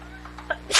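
Sneeze from someone in a baseball broadcast booth during a junior college game, a short loud burst at the very end of the clip after a brief soft catch of breath, over a steady low hum.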